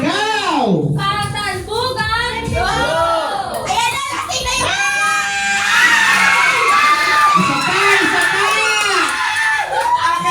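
Children shout and cheer together at a family New Year party, a loud, dense crowd of young voices rising and falling with excited calls throughout.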